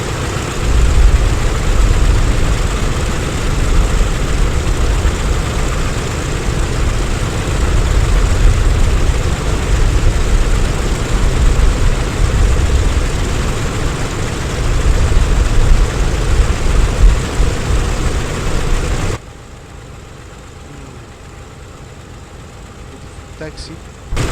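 PMDG DC-6 propeller airliner engines running in Microsoft Flight Simulator: a steady, loud, rumbling drone that holds for most of the stretch, then drops abruptly to a faint background hum; a voice talks over it.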